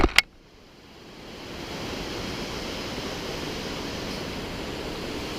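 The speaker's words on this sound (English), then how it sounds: "Waterfall." Steady broadband rush of a waterfall on a mountain river near Snowmass Lake, swelling in after a couple of brief knocks at the start and then holding as a constant roar.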